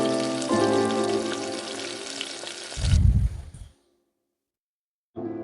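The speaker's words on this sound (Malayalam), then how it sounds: "നമ്മൾ അരിഞ്ഞു വെച്ചിരിക്കുന്ന തക്കാളിയും കൂടെ ചേർത്ത് ഒന്ന് വഴറ്റിയെടുക്കാം" Chopped tomatoes sauté in hot oil with a loud, close, crackling sizzle and a short clattering stir. Then there is silence, and the sizzle returns.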